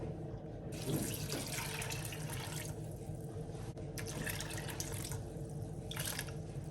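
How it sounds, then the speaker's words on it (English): Water runs steadily from a tap into a bowl of rinsed beans, a continuous splashing fill with slight variations in flow, no talking. "I'm going to add enough water for it to cook very well."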